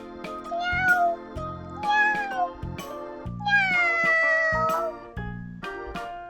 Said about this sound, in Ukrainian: Є у кішки малі кошенята.